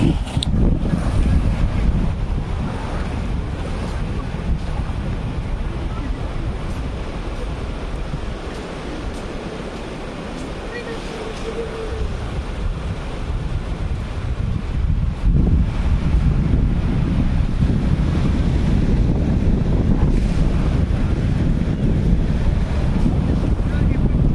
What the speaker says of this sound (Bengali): আর একটু সমুদ্রের র সাউন্ড আছে